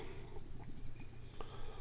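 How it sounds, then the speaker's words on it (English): Fresh Hubbard's Cave Brewery imperial IPA poured aggressively down the centre of a glass, giving a faint, quiet trickle and splash with soft dripping sounds. "I'm going to pour it fairly aggressive here"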